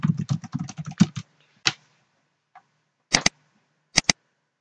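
Someone types a password on a computer keyboard: a quick burst of close, crisp key clicks, then a few scattered single and paired keystrokes separated by short silences.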